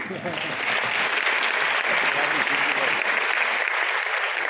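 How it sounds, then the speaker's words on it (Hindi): Audience clapping at a Hindi comic poetry gathering (hasya kavi sammelan) in Rohtak; a full, steady burst of applause from many hands that holds evenly, with faint voices beneath. "तालियां"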